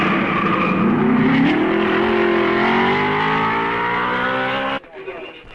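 1955 Belgian Grand Prix race cars roar loudly at close range, engines climbing in pitch as they crest the Raidillon summit at Spa, with a commentator's voice running over the din before it cuts to near silence.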